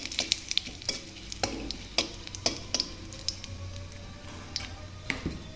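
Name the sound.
whole cumin, bay leaf, dried chilli tempering in hot oil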